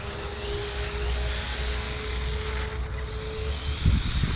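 A WLtoys 244016 1/24-scale RC buggy, a Losi Micro-B clone, whines steadily as it rips around nearby, a constant high electric motor drone with scuffing and a louder bump near the end.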